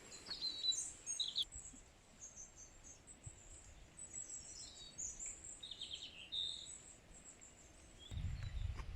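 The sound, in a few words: birds singing by a lake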